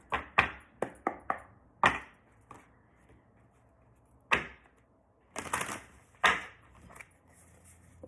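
Oracle cards handled and shuffled, sharp close snaps and taps in an irregular cluster, then sparser clicks and a short riffle, quiet between strokes, with no talk.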